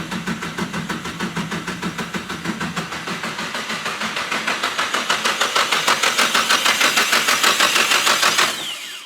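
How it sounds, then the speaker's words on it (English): A car engine with no fuel, its pump disabled, is cranked over by the starter to build oil pressure, a loud rhythmic whirring chug that speeds up and grows louder over several seconds before cutting off. "are you just cranking for oil pressure?"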